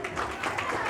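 A crowd at a school gathering claps for a brief moment, producing a dense, steady patter of applause close by that lasts under a second.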